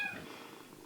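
A cat perched on a tall cat tower at an animal shelter purrs very softly with a faint, steady low rumble. The brief sound is alone, with no voices.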